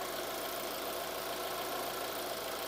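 Fuel injector on a vehicle engine, picked up through a mechanic's stethoscope-style listening device: a steady, dense mechanical hum with rapid ticking throughout, close and continuous.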